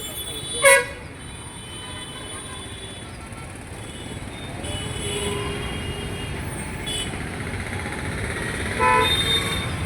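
Busy road junction traffic at Lodge Center in Guntur, with buses passing, a continuous roar of engines, a sharp horn toot near the start and another honk near the end, while someone talks over it.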